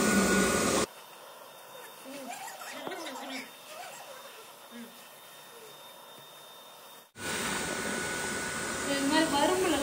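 A household vacuum cleaner is switched on to suck dust from under a bed in a village home, a steady whooshing hum running for several seconds under quiet talk, then cutting off as a louder voice resumes.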